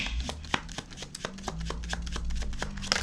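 A deck of tarot cards is shuffled by hand, a quick run of crisp, close card slaps and flutters in an uneven rhythm, with no voice over it.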